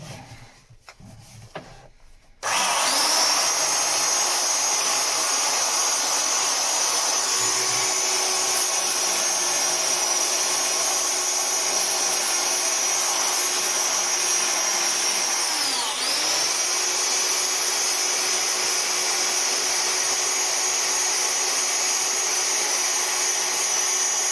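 An electric sander whines up suddenly after a few seconds of handling noise and runs loud and close for about twenty seconds on wood, its steady high drone dipping briefly once as pressure shifts, with no talking.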